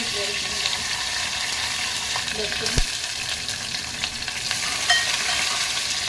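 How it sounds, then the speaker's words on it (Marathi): Cumin and garlic dropped into hot oil to temper dal for a Sankashti Chaturthi offering, giving a continuous close sizzle and crackle with stirring and one sharp knock partway through. "आता डाळीला फोडणी देऊया तेल गरम झालं मग टाकूया पण त्याच्यामध्ये जिरं लसूण"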